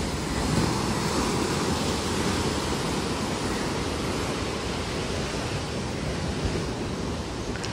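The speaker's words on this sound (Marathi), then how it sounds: "मोठी लाट आली की पाणी वरती पण येते" Sea waves break on the shore in Goa, a dense, constant roar of surf that stays loud and unbroken throughout, with nothing else audible over it.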